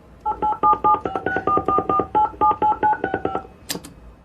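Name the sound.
telephone number being dialed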